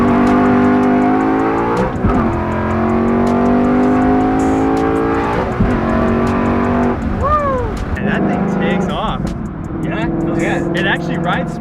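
A car fitted with a custom Whipple Gen 5 3.0 supercharger drives down a street with a loud engine note rising and shifting through gears, then settling to a lower rumble, with a brief squeal-like chirp partway.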